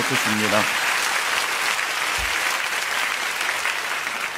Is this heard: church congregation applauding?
yes